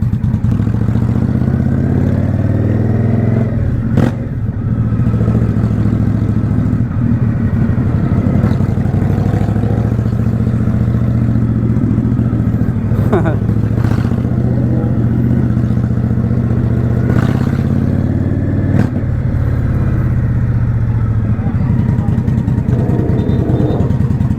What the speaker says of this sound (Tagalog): So Indian motorcycle, bobber type yung klase ng motor niya mga pare.